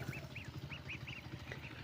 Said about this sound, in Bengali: এইখানে দুইটা চিনা হাঁসের বাচ্চা আছে